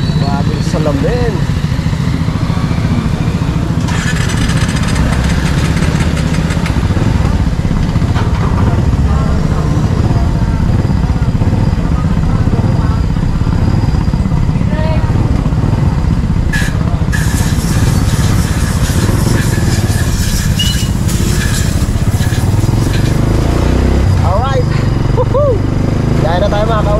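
A motorcycle engine runs steadily just after an oil change, a loud, continuous mid-pitched hum and rumble close by for the whole stretch, with someone talking over it at times.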